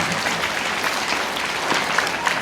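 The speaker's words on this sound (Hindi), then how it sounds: "बहुत बहुत धन्यवाद आपकी 250 ग्राम तालियों के लिए।" A school audience at a magic show claps continuously, a dense, even spread of applause at moderate loudness with no talk on top.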